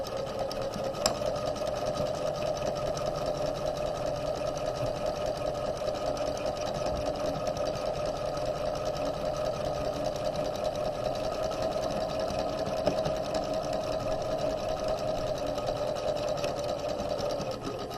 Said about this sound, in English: we're going to sew across the shoulder seam, which is the top of the sleeve.